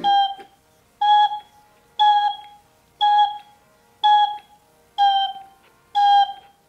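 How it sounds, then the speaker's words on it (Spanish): A small toy flute plays seven evenly spaced short notes, each held about half a second with a bright, slightly wavering tone, loud and close with no voices. "Creo que estoy comenzando a enloquecer a los vecinos con la flautica esta."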